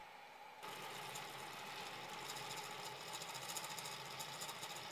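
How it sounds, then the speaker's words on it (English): An inexpensive 3D printer fitted with a pellet extruder starts abruptly and runs at speed, a dense, rattling mechanical buzz with rapid vibrating pulses that holds steady and loud to the end. "the inexpensive printer used, whose weak mechanics bends and starts to vibrate"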